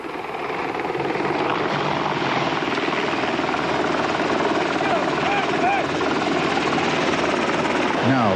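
An Apache military helicopter flies during a military exercise in Tirana, Albania, its rotor thumping as a dense, steady roar that fills the scene throughout.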